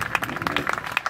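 Audience applause at an awards ceremony, a steady wash of many hands clapping close and fairly loud, with scattered sharper claps standing out.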